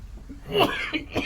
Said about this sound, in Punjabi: ਉਹ ਖਾਂਸੀ ਬਹੁਤ ਆ ਗਈ ਜੀ